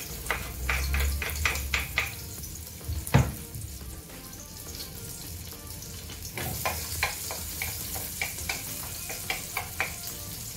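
Onion and garlic fry in a pan, a steady close sizzle with scattered clinks and stirring taps from the pan, no talking.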